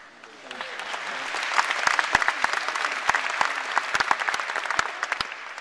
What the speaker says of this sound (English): Thanks for realizing I was waiting for you to applaud.